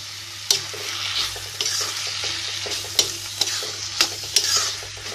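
A spoon stirring sitaphal (pumpkin) sabzi with a little sugar in a pan, sizzling steadily with repeated sharp scrapes and knocks against the metal, close and alone.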